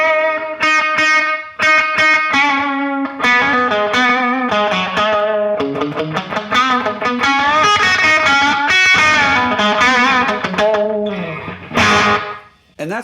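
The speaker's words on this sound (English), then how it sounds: "My third channel I set more as like a reverb in case I need it." Electric guitar played through a reverb channel on a live rig, a continuous melodic phrase with chords and runs, saturated and washed in reverb, loud and close before tailing off.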